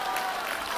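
A crowd at a political rally applauds in a dense, steady wash of clapping, loud and continuous through the brief moment.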